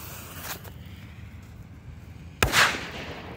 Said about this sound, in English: let's go ahead and see how the M90 firecracker performs.